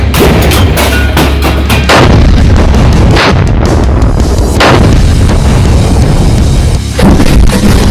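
A tank cannon fires: loud, close booming blasts with a heavy, rolling rumble and rattling aftershocks that fill the whole stretch without pause.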